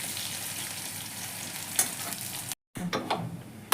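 Onion frying in oil tempered with nigella seeds, a steady close sizzle with a brief gap, then stirring scrapes and spatula clicks over the frying, no speech.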